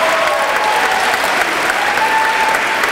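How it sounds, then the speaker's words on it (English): Loud, sustained applause fills a poetry slam venue after a poet's scores are read, a dense crowd clapping steadily with faint cheering mixed in. "let's keep that applause going"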